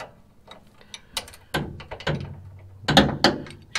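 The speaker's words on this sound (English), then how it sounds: "I'm using a ratchet wrench, which is nice and handy" A ratchet wrench loosening a shock bolt on a Dodge Ram 2500 4x4 during a Fox Racing 2.0 shock replacement, heard as irregular close clicks and metallic clunks in short bursts, with no talking.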